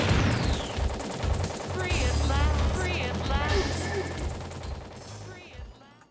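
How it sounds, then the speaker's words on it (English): Rapid gunfire and crashing blasts in the arcade light gun game Revolution X, dense overlapping shots and explosions with game music and effects, loud throughout and tapering toward the end. "Revolution X is a light gun game for arcades. You point and shoot at enemies as the screen moves."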